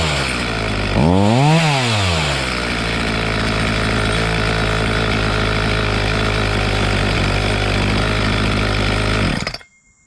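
A Homelite chainsaw engine runs close and loud, revving up and back down once early on, then idling steadily before cutting off abruptly at the end.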